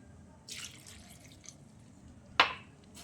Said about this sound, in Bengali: এক কাপ জল দিলাম আর এক কাপ জল দিলাম